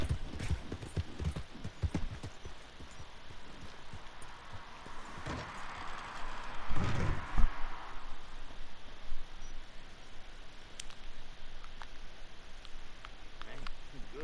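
Rapid clip-clop of horse hooves trotting steadily in the video game Red Dead Redemption 2, with brief louder thumps around the middle and faint background game sounds.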